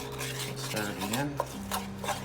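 A utensil scrapes and stirs sautéed onions and minced garlic around a pan in beef drippings, making soft rubbing, scraping strokes with a faint clink. A voice talks quietly underneath the stirring.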